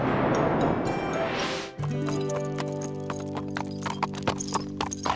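Cartoon horse hooves clip-clopping at a steady walking rhythm on a trail ride, close and clear, with a brief whinny-like sound and light background music beneath.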